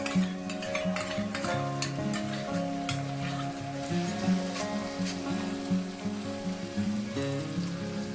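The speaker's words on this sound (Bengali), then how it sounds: "এর মধ্যে দিচ্ছি দই" Yogurt goes into a sizzling pan with cashew paste for a vegetarian chhana kofta curry, giving steady hissing and stirring scrapes throughout, close and moderately loud over continuous background music.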